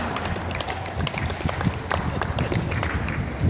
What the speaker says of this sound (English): I think we can give them a half of a round of applause for that